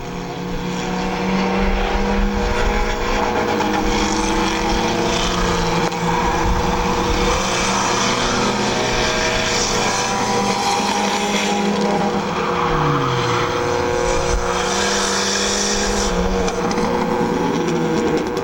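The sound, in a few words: race car driving on a speedway track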